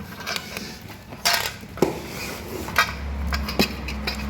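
Lithium cells are pulled out of an Okinawa electric bike battery pack, giving sparse metallic clinks and knocks, several sharp separate taps over a quiet background with a low hum toward the end.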